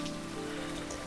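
Steady rain pours down during a storm, a dense continuous hiss of drops on a surface throughout, fairly close and even, with no voices.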